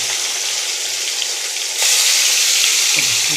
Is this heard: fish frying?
yes